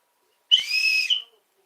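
A short, bright whistle is blown once, a sustained shrill tone lasting under a second that starts with a sharp attack and ends with a slight rise, heard alone in an otherwise quiet room.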